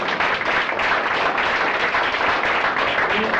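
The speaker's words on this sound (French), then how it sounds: "On les applaudit, s'il vous plaît." An audience at a debate applauds in a dense, continuous wash of clapping that holds at an even, loud level from start to finish.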